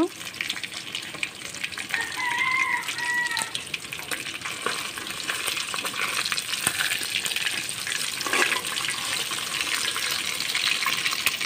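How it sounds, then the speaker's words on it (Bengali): Small puti fish fry in a pan as steady broadband sizzling and crackling, turned side to side, with brief scraping and a few light clinks over the constant close hiss. "এখন এপিট ওপিট করে ভালোভাবে ভেজে নেব।"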